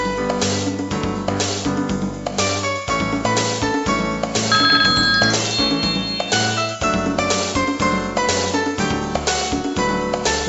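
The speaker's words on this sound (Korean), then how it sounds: "두 번째 전화 연결해 보겠습니다" A phone rings during a Korean radio-style call-in health consultation on rheumatoid arthritis with a Korean medicine doctor. The ringing is loud and steady, heard alone over a musical ringtone-like pattern.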